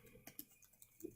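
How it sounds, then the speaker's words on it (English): A few soft, uneven keystrokes tap on a computer keyboard in a quiet room, faint and close. "trying to type at an angle"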